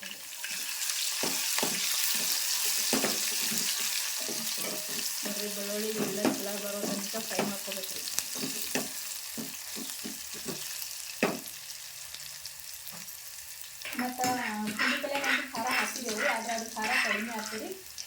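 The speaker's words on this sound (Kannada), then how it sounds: "ಈಗ ನೋಡ್ರಿ ಜೀರ್ಗಿ ಮತ್ತು ಸಾಸ್ವಿ ಚಟ್ಪಟ ಸಿಡಿಗೆ ರೀ" Cumin and mustard seeds crackle and pop in hot oil, a busy sizzle with frequent sharp snaps, heard under a voice talking on and off.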